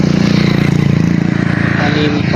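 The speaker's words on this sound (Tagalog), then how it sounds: "7 na yung mga dumaan na motor" A motorcycle passing by on the road nearby, a loud pulsing engine throb that stays close for the whole stretch, with people talking over it.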